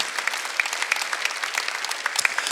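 A church congregation at a Sunday worship service claps together, a dense, even burst of applause that stays close and lively throughout.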